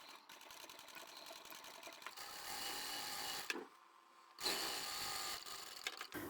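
A sewing machine runs in steady, close bursts while stitching the seams of a fabric tote bag, stopping briefly in the middle before whirring on again.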